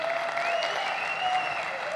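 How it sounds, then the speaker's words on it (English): An audience at a fireside chat applauds Sam Bankman Fried, a short stretch of steady crowd clapping with a faint tonal whine running through it. "give it a round of applause to Sam Bankman Fried"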